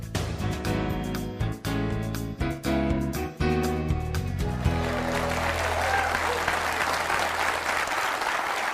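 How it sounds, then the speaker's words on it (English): Seminar audience applauding to welcome a personal-development speaker: sustained, dense clapping from a large crowd, steady and fairly loud, with music in the first half before the applause carries on alone. "Appreciate that fabulous welcome and all that applause and your respect."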